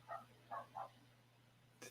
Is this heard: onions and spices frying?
no